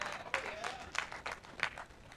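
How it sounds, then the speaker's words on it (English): Audience clapping for a speaker named Matt, heard faintly as a scattering of claps and crowd noise with a few sharper individual hits, low in level and somewhat distant. "Clap for Matt."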